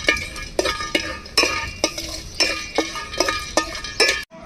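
Whole spices, star anise, cloves, cardamom and a piece of cinnamon, dry-roasted in a pan over a wood fire, giving a steady scrape-and-rattle of stirring with repeated clinks and light sizzle, close and loud, no speech.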